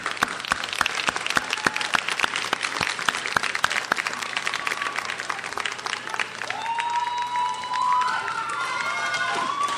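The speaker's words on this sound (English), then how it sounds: "I think that you should give your families a round of applause for what they" Applause at a nursing candlelighting ceremony comes from an indoor audience, with dense, sustained clapping that fills the room. The clapping thins out toward the end as a faint voice and room noise come through.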